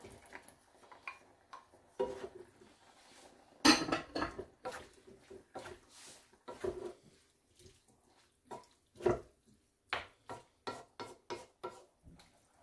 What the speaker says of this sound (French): J'ajoute ensuite les 500 g de tomates concassées.